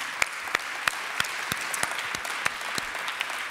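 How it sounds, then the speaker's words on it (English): Audience applause at a closing fireside session on innovation and entrepreneurship, a steady, moderately faint wash of many hands with a few sharper individual claps standing out in a regular pattern. "So I want to give you a big round of applause."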